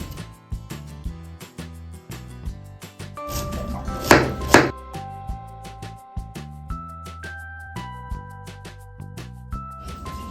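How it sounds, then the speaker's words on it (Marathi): A knife finely chops onion on a board, a quick run of close, even taps with a brief louder burst partway through, set against a musical backing, with no talking. "एकदम बारीक कांदा कापून घ्यायचा आहे"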